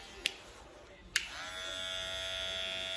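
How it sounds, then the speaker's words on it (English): A budget Ovlux electric hair clipper is switched on after two clicks and then runs with a steady, high-pitched buzzing hum that holds evenly to the end. "That's the Ovlux budget clipper."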